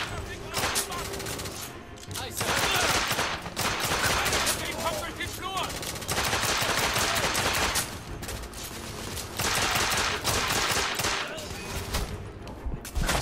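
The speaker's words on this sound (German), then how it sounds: "Oder besser gesagt, drei Schrotpatronen kommen da mit einem Schuss raus." Shotgun fire in The Order 1886 that sends three shells per shot, loud repeated blasts in dense, overlapping bursts with gaps between, mixed with game noise and a voice talking.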